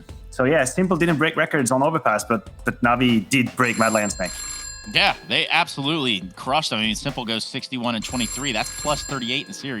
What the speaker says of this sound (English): Oh, wait, that's the phone ringing.